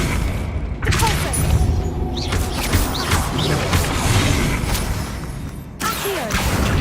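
Repulso spell blasts in Hogwarts Legacy gameplay, loud booming bursts with crashing debris and rumble filling the whole stretch, briefly dropping away near the start and again toward the end.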